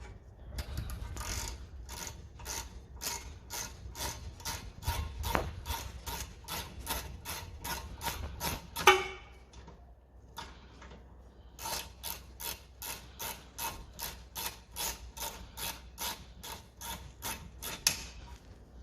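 Ratchet wrench loosening the nuts on a car's brake caliper, rapid rhythmic clicking in two long bursts separated by a short pause, close and clear with no talking.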